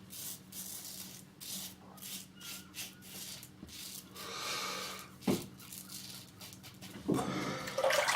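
Scraping strokes of a Merkur 30C safety razor across lathered skin during a first shaving pass with Italian almond soap, close and intermittent, with a few sharper rasps and rinsing-like noise toward the end.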